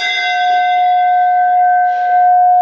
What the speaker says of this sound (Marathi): त्यानंतर परत एंट्री करताना एक घंटा आहे इथे.